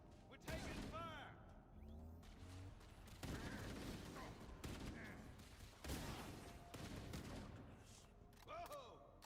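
Gunfire in Halo Campaign Evolved, a firefight of repeated shots and bursts with whooshing projectile effects and impacts, moderately close amid battle noise.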